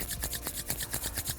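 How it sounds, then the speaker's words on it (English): Two palms rub briskly together, producing a soft, close, rhythmic swishing friction sound in quick repeated strokes with no voices. "start to rub your hands together in front of you"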